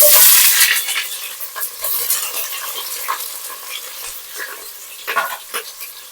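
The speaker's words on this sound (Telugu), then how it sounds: "ఇప్పుడు డైరెక్ట్ గా మనం ఉల్లిపాయలు వేసేసుకుందాం" Onions for a tomato coconut milk pulao drop into very hot oil and are stirred, starting with a loud burst of sizzling that settles into crackling frying with repeated scraping strokes, close and with no talk.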